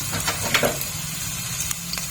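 Cumin seeds sizzle in hot oil in a wok, a steady bright hiss with faint crackles and a few light pops, close and alone without talking.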